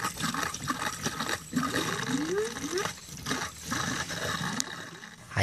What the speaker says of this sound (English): I hear the water, nothing's coming out.